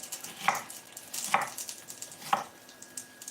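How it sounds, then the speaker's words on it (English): A knife chops onion for a Chinese take-out style stir fry, three evenly spaced firm board knocks standing out over a steady background of sizzling and kitchen noise. "Cut up a little bit of onion."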